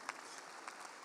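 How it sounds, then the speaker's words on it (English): Applause at a university graduation ceremony greets a graduate as she comes forward, a brief, fairly faint patter of clapping from the audience with a couple of sharper claps standing out. "A round of applause as she comes"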